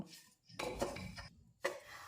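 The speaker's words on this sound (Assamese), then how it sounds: "এনেদৰে লাহে লাহে ল' ফ্লেমত নাৰিকলখিনি ভাজি থাকিব" Metal utensils clatter and scrape against a pot in short bursts as grated coconut is roasted on a low gas flame, a stirring, scraping kitchen sound close by with brief pauses between strokes.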